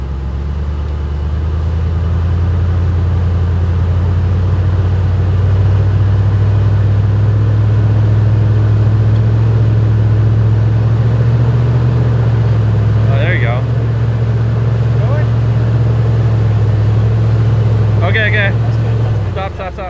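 Jeep Wrangler EcoDiesel engine laboring and revving as it climbs out of a hole off road, a steady loud low drone throughout with brief metallic rattles near the end.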